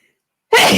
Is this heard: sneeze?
yes